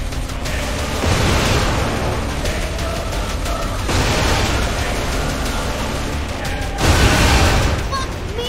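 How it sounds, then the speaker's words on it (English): Explosions in the video game Saints Row: The Third, heavy booming blasts rolling into dense noisy rumble, with sharper bursts at intervals over continuous loud action sound. "Watch those explosions!"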